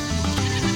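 Goats bleating on a farm, a short, close, steady animal call lasting under a second with no talk over it.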